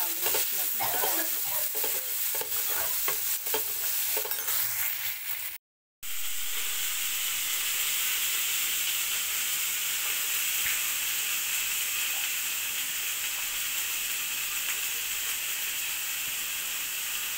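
Corn and tomato with spices sizzle loudly in hot oil in a pan, a steady close frying hiss with stirring scrapes at first, broken by a brief silent cut before the sizzle resumes alone.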